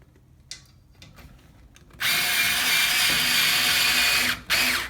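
After a few light taps and clicks, a cordless drill driver whirs loudly and steadily for a couple of seconds while assembling a bed, pauses briefly, then spins up again.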